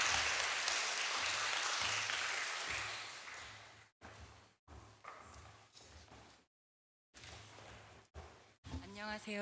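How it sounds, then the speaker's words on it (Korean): Church audience at a vision seminar clapping together, a broad steady wash of applause that swells, tapers and breaks off in short bursts, with a few claps still trailing near the end. "나올 때 박수 한번 주시고"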